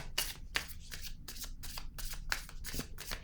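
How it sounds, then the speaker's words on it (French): Tarot cards are handled and laid down during a card reading, making a quick run of soft, close papery flicks and slaps, faint and rhythmic. "Je vais déposer une autre carte."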